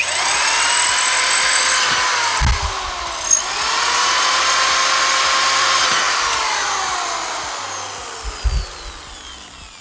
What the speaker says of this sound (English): I had to use a small drill bit in order to actually get through